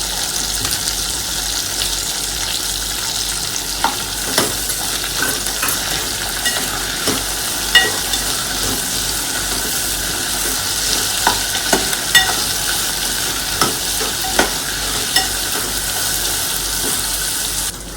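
Green chili and ginger paste frying in a pan, a steady loud sizzle with scraping stir strokes and small pops scattered throughout, close up with no talking.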